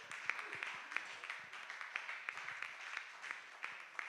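A church congregation clapping in praise of the Lord: dense, continuous applause with sharp individual claps in a loose, fairly quick rhythm, heard from a moderate distance without talk.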